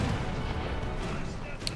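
Ship cannon fire during a War Thunder naval battle between sailing pirate ships, heard as a dense continuous rumble of blasts and crashes, moderately loud and steady throughout with no clear gaps.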